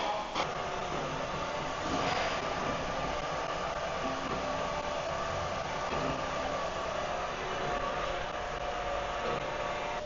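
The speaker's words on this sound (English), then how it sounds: "Today we'll be cycling your Rietz pedal blender." A Rietz RS-10 industrial pedal blender, a vacuum mixer on 480-volt three-phase power, runs with a loud, steady mechanical roar and whir that stays constant throughout, with no speech.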